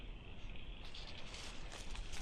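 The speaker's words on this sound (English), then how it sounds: "Can you hear the frogs?" Dense chorus of frogs and insects calling steadily at night, a continuous high trilling texture with no talking.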